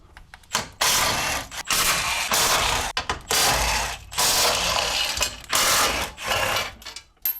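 Repeated ratchet bursts loosening 16mm bolts on a BMW E90 during a downpipe swap, fast clicking runs separated by short pauses, close and loud with no talking.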